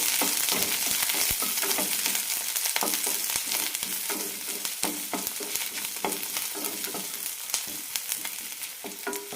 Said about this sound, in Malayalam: ഉള്ളി നല്ല ട്രാൻസ്പെറൻ്റ് കിട്ടുന്നവരെ വഴറ്റിയെടുക്കാം